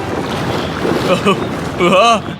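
Water sloshes inside a large water-filled tube as it is shaken, giving a continuous rough, splashing wash that swells briefly near the end, with faint voice-like tones mixed in.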